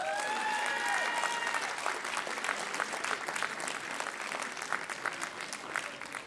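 Audience at a live music concert applauding the drummer, a dense, steady wash of clapping from many hands with a few whistles at the start, continuing throughout.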